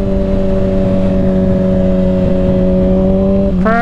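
A 2021 Kawasaki Ninja ZX6R KRT Edition revs hard with its exhaust baffle removed, held at a steady high howl under an overpass, then drops and climbs sharply again near the end. The sound is loud and close, with no talking.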